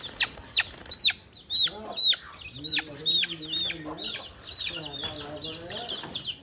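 Desi chickens on a poultry farm give sharp, high peeps and calls close by in quick repeated bursts, followed by softer clucking, all at a fairly loud level.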